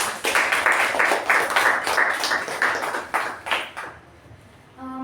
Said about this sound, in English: let's give a huge round of applause to our Sachin